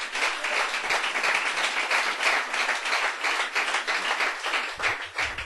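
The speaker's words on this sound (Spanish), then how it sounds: "Gloria a Dios, denle un aplauso a Él." A church congregation claps together in sustained, even applause during a Spanish-language service, bright and close, with faint murmuring underneath.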